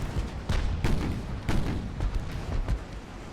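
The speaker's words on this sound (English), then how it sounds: "Heavy gunfire coming in." Heavy naval gunfire striking a ship in the video game Ultimate Admiral: Dreadnoughts, a rapid series of booming impacts and blasts with rumbling in between, moderately loud and continuous.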